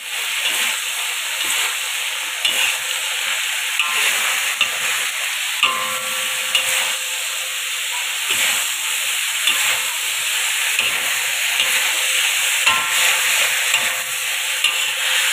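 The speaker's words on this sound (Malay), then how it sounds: "Okey, masukkan semua sayur, masak sampai layu" Capsicum and mixed vegetables stir-fried in a pan, giving a continuous loud sizzle and hiss with intermittent scraping and stirring clatter, no talking.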